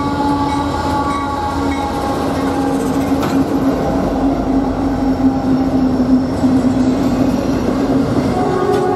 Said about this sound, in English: This is another intermodal heading eastbound on a Chicago line.